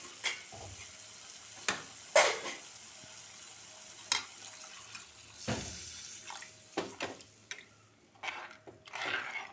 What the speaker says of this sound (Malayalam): അതിനുശേഷം നമുക്ക് ആവശ്യത്തിനുള്ള വെള്ളം ഒഴിച്ചു കൊടുക്കാം.